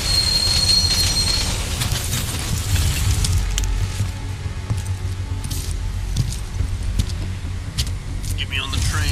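A train in a video game, with a continuous low rumble of rolling cars and wheels plus scattered metallic squeals and clicks, loud and steady throughout.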